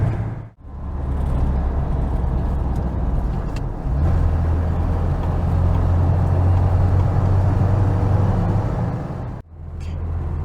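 A car passes on a Siberian highway near Lake Baikal, heard from inside a Volga on the road to Irkutsk: a steady, loud engine and tyre rumble with a rising low drone as the other vehicle overtakes.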